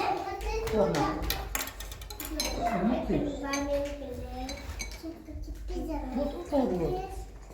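A spoon clinks against dishes in quick bright taps while children talk close by, the clatter coming in bursts between their voices.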